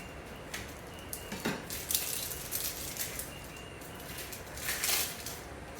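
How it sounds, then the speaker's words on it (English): A knife slicing a purple onion on a cutting board gives a few faint, scattered taps and cuts, quiet and close, with light kitchen clatter and no talking. "I'm just gonna get a few slices of some of this purple onion."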